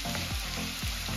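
Potatoes with kidney sizzle steadily in a pan, a soft continuous frying crackle with faint stirring scrapes and no talk.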